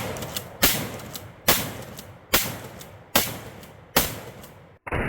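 Kel-Tec KSG pump shotgun fired rapidly outdoors, five loud evenly spaced blasts each trailing a long echoing decay, then a final clack of the action.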